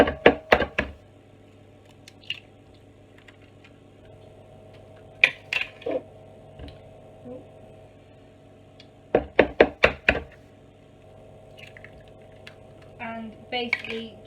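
Three eggs are cracked into a bowl holding sugar for caramel brownies, giving a few sharp taps and wet cracks in scattered clusters, close up, with quiet pauses between and a faint squish near the end.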